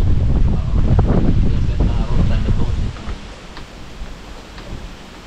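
Loud, buffeting wind roars against the microphone for a few seconds, then eases to a softer rush.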